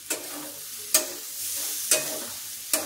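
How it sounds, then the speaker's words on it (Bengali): Food fries and sizzles steadily in a pan while being stirred, with a constant hiss broken by four sharp spatula scrapes at regular intervals, close up and with no talk. "বোঝাই যাচ্ছে যে ভাজাটা হয়ে যাচ্ছে।"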